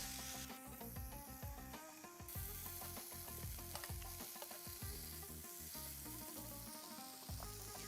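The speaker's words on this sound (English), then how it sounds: "I love that sizzling sound." Loud, continuous sizzling of chicken shawarma pieces frying in a hot pan, close up, with intermittent scraping and stirring sounds throughout and no talking.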